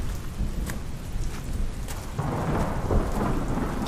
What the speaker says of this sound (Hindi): आज दोपहर से बारिश हो रही थी